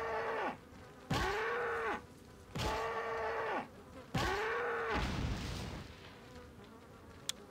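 A cow in the Resident Evil 4 video game lets out several long, drawn-out moos in a row, each with a bending pitch and short gaps between, fairly close and loud.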